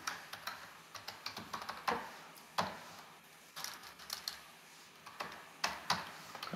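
Keys clatter on a computer keyboard in quick irregular bursts, with short pauses between runs of typing, close and fairly quiet against a faint room hum.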